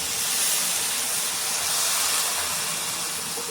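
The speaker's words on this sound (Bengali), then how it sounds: "তো এখানে আমি অল্প জল দিয়ে দেব।" Water hits a hot pan of potatoes and carrots cooking for poha pulao, making a steady loud hiss of steam that holds evenly throughout.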